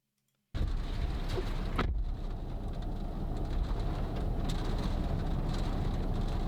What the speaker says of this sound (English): that's the sound of the tornado.